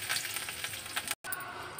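Tempering spices sizzling in hot oil, a close, bright crackle that runs steadily, breaks off for a split second, then resumes.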